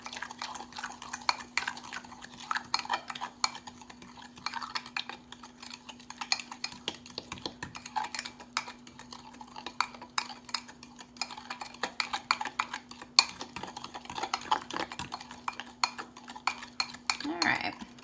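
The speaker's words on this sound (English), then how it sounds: "Mix this all together." Chocolate chip cookie ingredients being mixed in a bowl with a spoon or utensil, light irregular clinks and scrapes against the dish over a faint steady hum, close and fairly quiet throughout.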